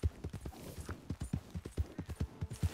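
Steady clip-clop of horse hooves in the video game Red Dead Redemption 2, a quick even rhythm of close, distinct knocks with no talking over them.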